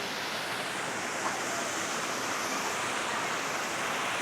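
Cholamala waterfall in Wayanad, Kerala, a continuous broadband rush of falling water, steady and fairly soft, with no voices.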